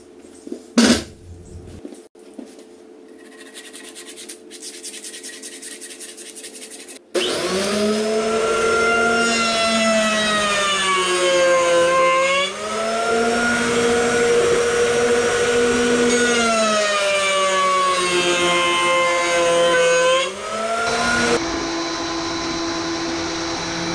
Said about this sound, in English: so I'm just able to run this through the planer and use the bottom as a reference